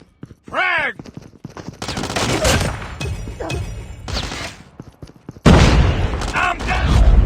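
Frag grenade blasts and gunfire in the mobile shooter game Call of Duty Mobile, with bursts of rapid shots, a loud boom and heavy crashing explosions, close and intense, mixed with short in-game voice callouts.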